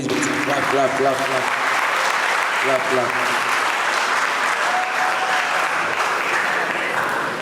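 Audience applause at a school debate, a Botwe versus GEH Hey contest held for the 148th anniversary of Mfantsipim School. The clapping is steady and dense for the whole stretch, and voices are mixed in.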